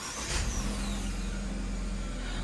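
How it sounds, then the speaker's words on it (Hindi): An MG HS engine starts and settles into a steady warm-up idle, a continuous mid-pitched hum with a brief louder surge near the start and no talking. "पहले गाड़ी स्टार्ट कर लें, वार्म अप"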